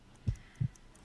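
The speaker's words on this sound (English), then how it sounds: "I need to concentrate and count the heartbeats." Two low, thudding heartbeats from the Sherlock Holmes game Crimes and Punishments, a slow, weak pulse with a pair of soft dull beats spaced apart against quiet background.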